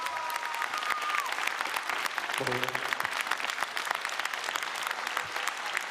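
Sustained applause from a studio audience for a singer's performance on a televised singing competition, dense and steady throughout, with brief sung or spoken tones rising above it near the start and middle.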